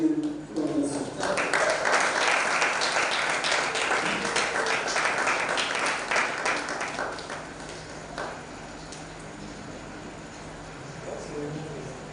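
Audience applause at a creative writers and readers bootcamp session fills the first several seconds as dense, loud clapping, then thins out and fades while a voice speaks over the tail.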